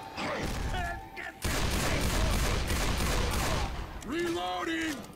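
Automatic weapons fire from the zombie shooter Left 4 Dead 2 at a truck depot finale: a dense, loud burst of rapid gunfire takes up the middle of the clip, with game effects and voices around it.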